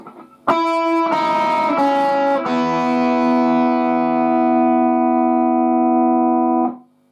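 An electric guitar picks a few descending notes that blend into a sustained chord with an open string ringing, the tones holding bright and steady before being cut off.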